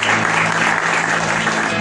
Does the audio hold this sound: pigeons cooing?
no